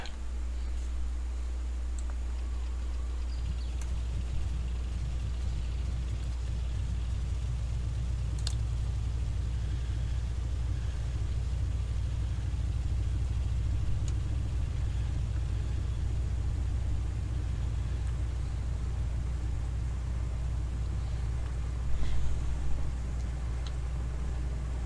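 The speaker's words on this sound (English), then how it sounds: "And let's see about starting the engine." A Carenado Beech 18S radial engine in the Prepar3D flight simulator turns over and runs, a steady low rumble with faint ticking that holds for about twenty-five seconds, with no talk.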